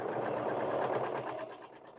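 A sewing machine runs steadily while stitching fabric, a close whirring motor buzz with rapid rhythmic needle pulses that eases slightly toward the end.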